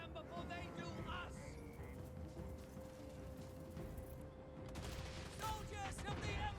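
Rocket battery and great cannon volleys in Total War: Warhammer III, a faint, crackling fusillade of shots and battle noise layered under spoken commands and a sustained tonal drone.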